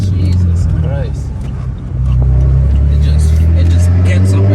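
A turbocharged Saab with an oversized turbo accelerates hard. Its loud, close engine drone dips briefly, then swells back stronger and holds steady, with voices heard over it.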